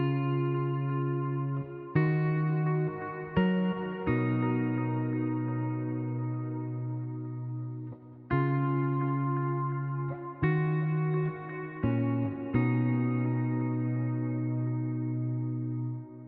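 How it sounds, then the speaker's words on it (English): A clean electric guitar loop plays sustained chords that change every couple of seconds, washed in delay and reverb, with no voices. "this guitar loop that sounds like this"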